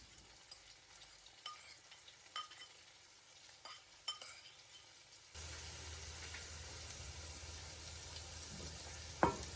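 Chopped onions hit a pan after ginger-garlic paste for a Kerala-style pork roast. Quiet clinks and taps come first, then a sudden, steady, loud sizzle takes over and continues to the end, with no talking.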